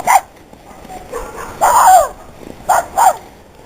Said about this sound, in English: there are other dogs in the neighborhood and now they all have to bark at one another